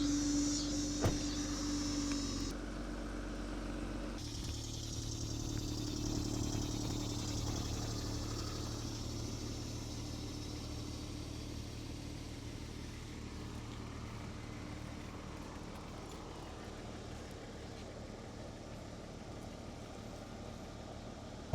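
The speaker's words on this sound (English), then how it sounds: "Currently reversing the C5 Corvette out of the driveway." A C5 Corvette reverses slowly out of a driveway, its engine idling low and steady, with a brief electric whir early on and no talking.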